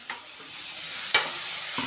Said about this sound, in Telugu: ఇప్పుడు టమాటాలు కూడా వేసేసి బాగా టమాటాలు మెత్తగా అయ్యేంత వరకు వేయించుకోవాలండి.